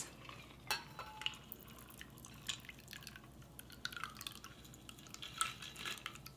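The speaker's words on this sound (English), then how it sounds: "I'm going to pop open the top here and pour it into my little coupe glass" A cocktail poured from a shaker into a coupe glass, heard as soft trickling and dripping with small clinks of metal and glass, close and quiet, with no talking.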